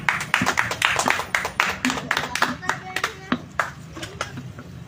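Scattered clapping from a small audience at an informal live session, distinct individual claps in an uneven rhythm, loud and close, thinning toward the end with voices murmuring underneath.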